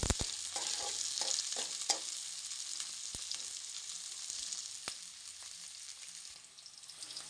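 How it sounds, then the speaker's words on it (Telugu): Green chillies and onions sizzle in a pan with steady frying hiss, stirred now and then with sharp scrapes of a spatula, close and fairly quiet with no talk. "మన పచ్చిమిర్చి ఉన్న ఉల్లిగడ్డ వేగింది కదా"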